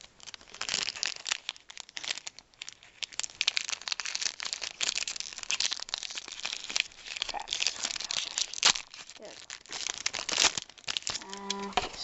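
Yu-Gi-Oh trading card foil packs are torn open and handled up close, a continuous run of crinkling, rustling and ripping foil with short sharp crackles throughout.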